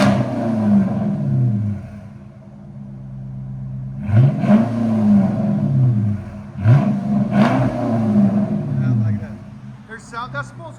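Chrysler 300 C with a 5.7L V8 and NTR race mufflers, revving in three rising-and-falling bursts over a steady idle rumble, close and loud, with a faint clatter near the end.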